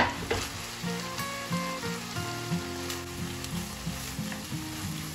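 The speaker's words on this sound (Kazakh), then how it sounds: "Осы фаршты әбден қызарғанша қуырып дайындап аламыз. Оның үстіне ұсақтап туралған пиязымызды саламыз. Екеуін жақсылап қуырып аламыз." Minced meat and chopped onion frying together in a pan for a bolognese pizza topping, a soft continuous sizzle with periodic stirring knocks and scrapes, close and moderately quiet.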